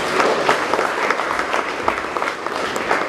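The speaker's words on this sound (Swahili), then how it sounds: "Yesu makofi mazuri" A congregation at a Sunday church service breaks into brisk, sustained applause, many hands clapping at once in a lively, even wash that carries on for several seconds.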